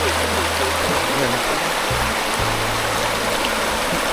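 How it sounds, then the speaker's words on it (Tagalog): River current flows steadily beside Mount Ngile, a dense, continuous rushing of water, close and loud, with no breaks throughout. "Ito yung agos dito."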